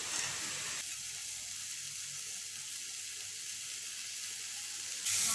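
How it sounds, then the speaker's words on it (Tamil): Onion, tomato and chili sauté in hot oil for an egg gravy, producing a steady, soft hiss of frying that dips quieter through the middle and swells again at both ends. "இப்போது வெங்காயம் தக்காளி மிளகா எல்லாம் வதங்கி வந்துருச்சு"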